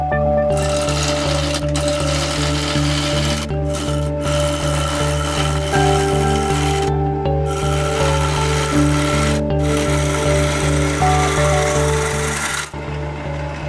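A wood lathe turns a bowl, giving a steady loud hum with scraping and rubbing from the tool against the spinning wood throughout, briefly dipping near the end.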